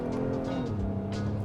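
A V6 engine revs up hard under acceleration with the paddle shifters, a continuous close droning pitch that steps through a shift about halfway through.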